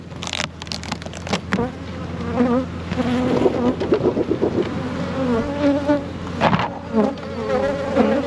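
Honeybees buzzing around a nucleus hive as it is transferred into new waxed frames, a dense close-up hum with individual bees droning past the microphone and light knocks of frames, no voices.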